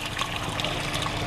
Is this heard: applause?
no